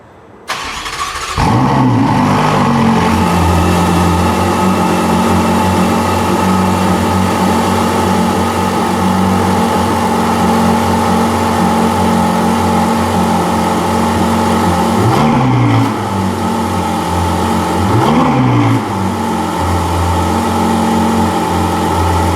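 A 2016–2017 Ferrari 488 Spider starts up and then holds a loud, steady exhaust drone close to the microphone, with two brief revs rising and falling near the end.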